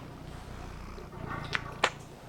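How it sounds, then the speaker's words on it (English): Pet cat purring while being held, a soft low rumbling purr close by with a couple of brief rustling bursts near the end. "I don't know if you can hear her purring."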